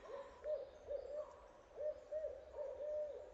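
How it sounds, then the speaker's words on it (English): An owl hoots in woodland, a series of soft, low, evenly spaced hoots in groups, faint and distant against a quiet background. "That's an owl."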